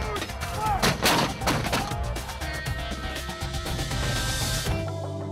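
A 105 millimeter artillery gun fires amid a dense, busy field soundscape, with heavy booming reports and cracks layered over continuous mechanical rumble and a sustained tonal hum, loud and prolonged.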